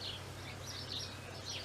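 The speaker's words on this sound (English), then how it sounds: "The birds know water is here now" Wild birds at a water source in a sanctuary give scattered high chirps over a steady low hum, faint and somewhat distant.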